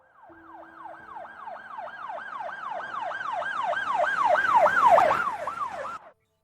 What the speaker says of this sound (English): He could hear the sirens wailing.